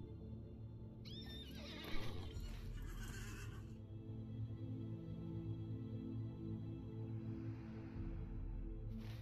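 A horse whinnies loudly while being ridden in the Lord of the Rings Online video game, a high neigh with clopping hooves and faint game ambience running underneath.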